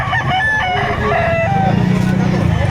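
A four-year-old rooster crows loudly nearby at a poultry market in Batangas, a drawn-out call over background chatter and clucking fowl.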